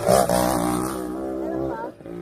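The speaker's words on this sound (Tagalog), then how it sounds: "Motocross, ang angas." A motocross motorcycle engine revs loudly and steadily on a mountain trail at Mt. Oro, Rizal, holding a high droning pitch that rises slightly near the end, with voices mixed in.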